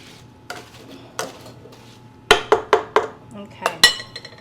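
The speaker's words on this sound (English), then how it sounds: "Let's break it down, stir everything up." Yams being stirred with butter and cinnamon in a pot, heard as a series of close metallic scrapes and clinks of a utensil against the pot, quiet at first, then a quick rhythmic cluster of louder knocks.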